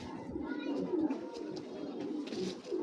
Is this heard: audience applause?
no